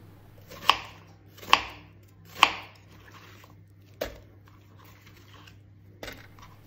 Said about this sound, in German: Jetzt noch ein Messer für die Stückchen.